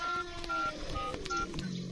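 A mobile phone dials an emergency number: a quick series of clear electronic keypad tones, single beeps in a brisk uneven rhythm, close and fairly loud over a faint background.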